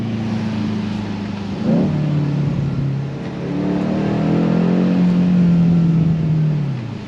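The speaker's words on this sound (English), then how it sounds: "Yeah, it sounds really nice, this car." A BMW M8 Cabriolet engine revs up and settles into a low, rumbling burble, rising again with a sustained throaty drone, close by.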